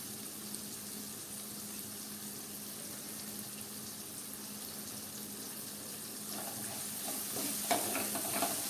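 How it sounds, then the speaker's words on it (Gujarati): Chillies sautéing in a pan for a Gujarati chilli and tomato curry, a steady soft sizzle running throughout, with a brief burst of stirring and scraping near the end. "મરચાં થોડા આ રીતે સંતળાઈ જાય"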